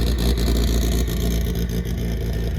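A Subaru WRX with an Evo front end and an air intake leak revs loudly and close by, a steady engine roar with rising and falling pulses throughout.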